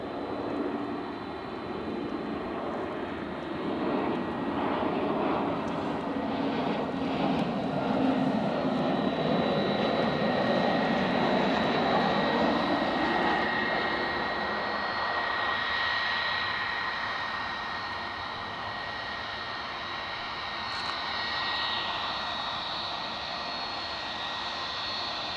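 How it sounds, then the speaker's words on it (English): A 15-year-old passenger jet inbound from London City roars steadily nearby while landing at Edinburgh airport, its broad engine rumble swelling in the middle and then settling into a sustained whine with no talking. "inbound from London City is this plane"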